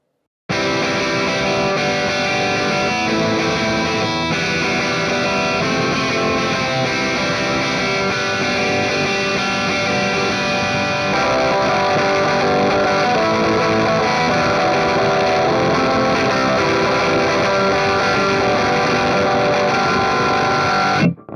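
Heavily distorted electric guitar through two stacked RAT distortion pedals plays continuously, thick and saturated with a fuzzy, compressed roar that stays loud throughout.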